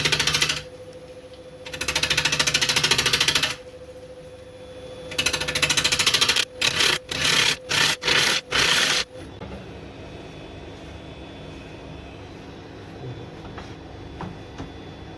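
Wood lathe roughing out an oak platter at about 800 RPM: loud bursts of cutting noise come and go, breaking into a rapid stuttering chatter toward the middle, then give way to a quieter steady motor hum.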